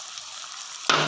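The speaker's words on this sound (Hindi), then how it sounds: "और इसको अच्छी तरह भूनते जाएं" Spices such as roasted coriander and cumin sizzle steadily in a hot pan while being roasted for karahi chicken, and a sudden louder burst of frying hiss comes at the end.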